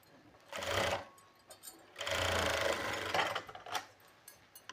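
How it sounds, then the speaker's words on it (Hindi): Sewing machine stitching along a fabric edge with elastic, heard in two bursts of rapid mechanical whirring, the second longer, with brief short runs and pauses between, close and fairly quiet. "तो इस पर आपको डायरेक्ट ऊपर ही सिलाई लगा लेनी है, क्योंकि अंदर नहीं दिखाई देगा कुछ भी।"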